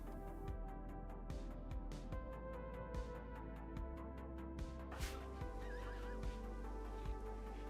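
Horse in the video game Rimworld whinnies over a backdrop of rhythmic, evenly spaced thumps and layered game music, the neigh standing out midway before the beat carries on.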